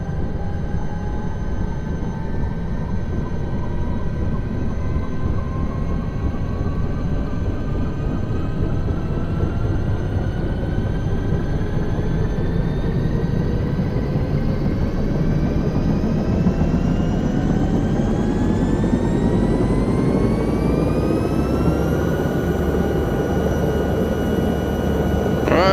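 A helicopter's rotor and engine run up in a flight simulator set on an Alps mountain rescue mission. A steady, loud turbine whine and rotor drone hold throughout, with tones sweeping slowly upward as rotor speed climbs, and no talking.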